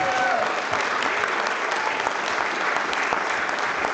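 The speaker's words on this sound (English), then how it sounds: "I want you guys to just give a warm round of applause and welcome to your new Sparrow, Layla, and her family." A big audience breaks into steady, dense applause to welcome a new student named Layla and her family as Sparrows, the clapping sustained and loud throughout with a few faint voices mixed in.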